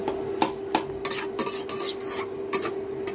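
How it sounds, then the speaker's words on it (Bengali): Boiled taro leaves and other bharta ingredients are stirred in a pot, giving a series of sharp scraping clacks of a utensil against the pan in an irregular rhythm over a steady hum, close and moderately loud. "এখন ভালোভাবে নেড়ে চেড়ে মিশিয়ে নিব সবগুলো উপকরণ"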